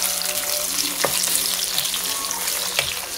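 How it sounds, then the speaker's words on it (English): Two sliced medium onions fry in hot oil in a pan for aloo matar, a steady dense sizzle running throughout with a couple of brief stirring scrapes rising above it. "We'll fry them till they become little light brown."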